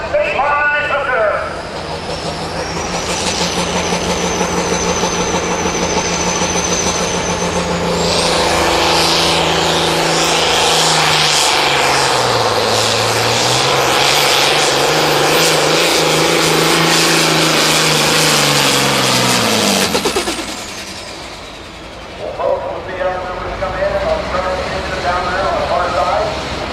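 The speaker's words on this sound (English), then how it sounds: "Here we go, 3-by-3 flag, 4440 John Deere." A John Deere 4440 farm tractor in the pro farm class makes a pulling run at a 2018 tractor pull in McLouth, Kansas. Its engine roars loudly for about twenty seconds, rising in pitch before cutting off, with an announcer talking over it.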